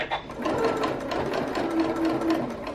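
A sewing machine runs steadily with a twin needle, stitching a T-shirt neckband in one continuous, fairly loud burst of rapid mechanical whirring.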